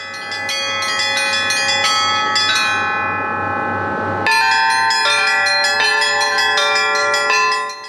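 Church bells rung by hand at a bell ringers' festival in Chuvashia, a rapid, clanging peal of several bells striking in quick rhythm, loud and close, with a brief lull before the peal resumes.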